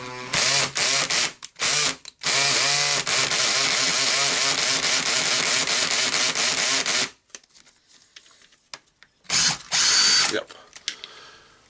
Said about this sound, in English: we will unscrew the winding here